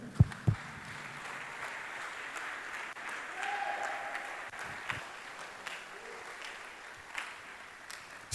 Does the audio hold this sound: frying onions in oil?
no